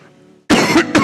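A quiet murmur gives way to a sharp, rasping cough and throat clear, two harsh bursts close to the microphone.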